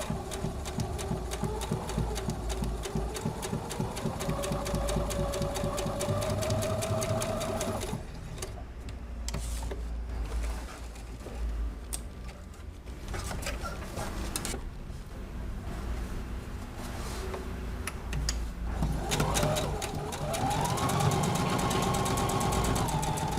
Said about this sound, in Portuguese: Agora eu vou para a máquina e vou passar a costura exatamente em cima da linha traçada.